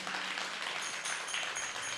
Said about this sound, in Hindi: तुम्हारी तालियां ऐसे बज रही हैं जैसे ओले पड़ रहा हूं